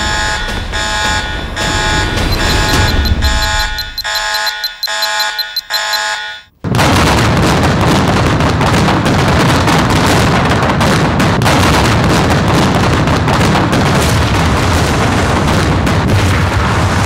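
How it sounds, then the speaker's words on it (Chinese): A bomb goes off in a wartime anti-Japanese action film: a steady electronic alarm-like tone gives way, after a brief hush, to a sudden loud roaring blast that keeps rumbling and crackling heavily for several seconds. "炸弹会爆炸了，快走！"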